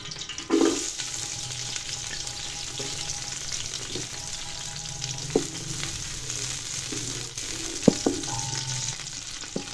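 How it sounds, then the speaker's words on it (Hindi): Two medium onions frying in hot ghee for a beef yakhni pulao, with a continuous close sizzle and crackle and occasional stirring clicks and scrapes. "प्याज को कलर चेंज तक फ्राई कर लेंगे"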